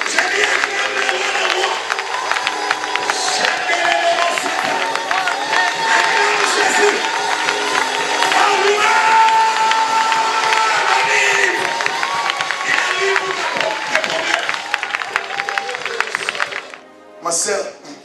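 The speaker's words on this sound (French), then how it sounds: "Acclame le Seigneur pour ce qu'il a fait." A church congregation cheers and shouts in acclamation of the Lord during a lively worship service. The loud, dense crowd noise runs nearly the whole time, then drops briefly near the end.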